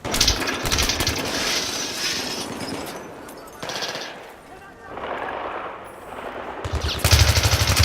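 Rapid machine gun fire in the video game Battlefield 3, loud dense bursts of shots throughout with brief pauses and heavier volleys near the end.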